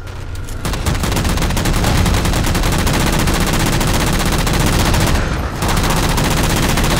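Sustained automatic gunfire in the video game Halo 4 as jammers are shot down, a loud continuous rattling burst that briefly cuts out near the start and again toward the end, with no voices over it.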